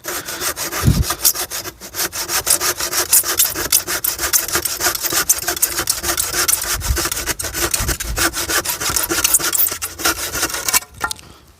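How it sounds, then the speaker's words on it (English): A hand saw rasps steadily through a wooden pallet in quick back-and-forth strokes, loud and close, with no voices. "And sawing"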